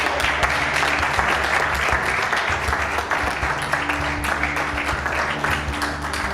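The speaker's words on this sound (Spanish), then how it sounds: "darle un aplauso también." Sustained audience applause at a medieval-themed expo talk in Cazalegas, dense and even, with a hum in the room and faint voices underneath.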